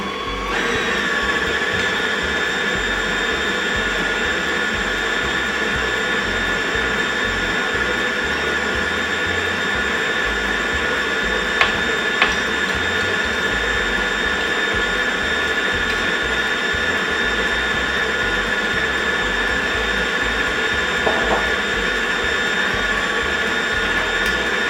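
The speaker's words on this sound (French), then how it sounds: "Vous pouvez ensuite augmenter la vitesse de votre robot." A kitchen stand mixer whips cream with white chocolate, running loud and steady at constant speed throughout, with a high tonal whine over the motor hum and a few faint clicks.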